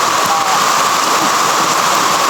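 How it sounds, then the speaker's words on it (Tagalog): Heavy rain pours down in a dense, steady broadband roar, constant and loud throughout, with no voices. "Oh, lakas ng ulan mga tolo."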